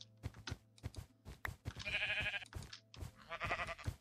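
Sheep in the game Minecraft bleat several times in quick succession, a few wavering, nasal calls rising over soft clicks and background game sounds, fairly close and with no talking over them.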